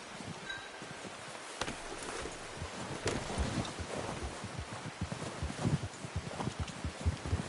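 Horse hooves clopping in a video game, a steady stream of soft repeated footfalls under wind and rustling ambience, with no talk.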